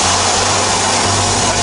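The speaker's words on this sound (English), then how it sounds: "That's the sound of the bead being broken." A tire changer at a Ford service shop in Portland breaks a tire bead off the rim, giving a loud, steady rushing hiss like escaping air with a low mechanical drone beneath, close and alone.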